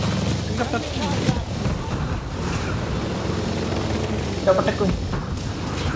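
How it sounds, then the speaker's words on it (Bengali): Helicopter in the video game Ghost Recon Breakpoint, a steady low rumbling drone that fills the whole stretch alongside other game noise, with a few sharper knocks near the end. "helicopter twelve clock twelve clock helicopter"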